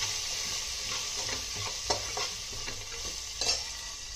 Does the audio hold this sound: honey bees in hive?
no